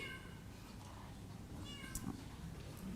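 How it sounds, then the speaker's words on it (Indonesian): A cat meows a few times, faint and somewhat distant, under low background noise. "Kucing siapa ni?"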